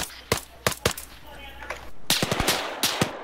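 Gunfire in the military video game Arma 3 sounds as sharp single shots and quick bursts, loud and near, with a denser rattle of fire toward the end and a steady low background noise.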